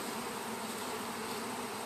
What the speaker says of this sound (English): I have no idea how many bees are here